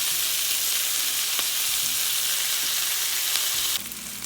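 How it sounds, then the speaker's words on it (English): Vegetables for sweet potato soup sizzling in a pot, a loud, even hiss of frying that holds steady throughout with a slight change in tone near the end, close by and with no talking. "I'm going to let the vegetables cook for 5 minutes before we add the vegetable stock."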